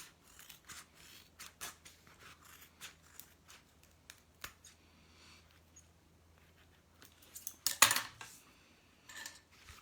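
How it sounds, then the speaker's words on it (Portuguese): Scissors trim excess fabric while sewing a thermal can holder: a series of quick, close, crisp snips scattered irregularly, with one louder cut near the end and light handling noise between. "Vou cortar uma rebarba aqui que achei que ficou muito grande."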